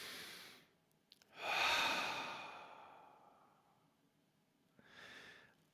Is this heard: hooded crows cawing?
no